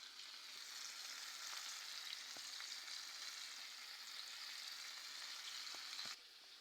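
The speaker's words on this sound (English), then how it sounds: "4 pieces of chicken roll in a fry pot guys." Four flour-coated chicken pieces fry in a pot with a steady, even sizzle and a few faint clicks. The sound is quiet and continuous with no voices.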